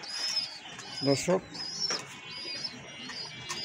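A pigeon back in its loft after three months gives a few soft coos and a short burst of wing flapping, close and fairly quiet, with a person speaking briefly in between.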